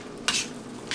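A spoon stirs pasta with seafood alfredo sauce in a pan. Two short, soft scraping strokes sound close up against quiet kitchen background.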